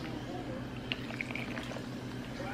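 Liquid leaking from a bottle, trickling and dripping steadily at close range, with faint splashy drips over a low background hum.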